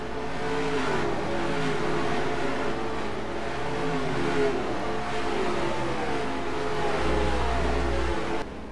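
Race cars in the NASCAR Racing 2003 video game roar toward the finish line at the Mirage track, a continuous loud engine drone with layered revving tones, steady throughout and ending abruptly.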